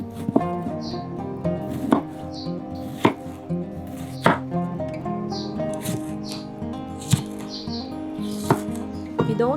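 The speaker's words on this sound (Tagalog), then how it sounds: "Wash the tomato and cut into strips." Knife chopping through a tomato on a cutting board during home cooking, giving a steady series of sharp cuts and taps with a faint bird chirp somewhere in the background.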